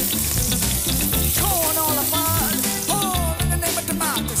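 Asparagus sizzles steadily in a hot frying pan on a cooking show, a dense continuous crackle with some clinking and stirring, and music plays faintly underneath.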